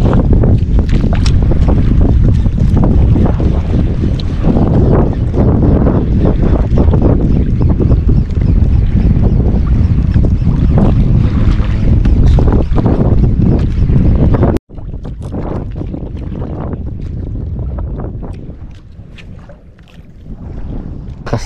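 Strong wind roars and buffets the microphone continuously, a loud rumbling gust that eases slightly partway through but never stops.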